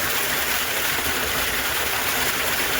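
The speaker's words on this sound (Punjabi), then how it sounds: "ਪਾਣੀ ਆ ਰਿਹਾ ਬਹੁਤ ਵਧੀਆ" Water from a farm irrigation pump gushes steadily into a field channel, a loud, constant broadband rush that fills the whole stretch without pause.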